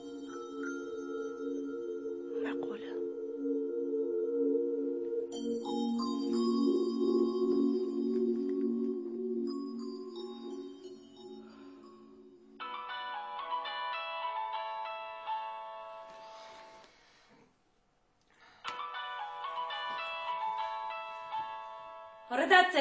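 A phone ringtone in an indoor domestic drama scene plays in repeated melodic bursts with brief gaps, fairly quiet, while people argue over it.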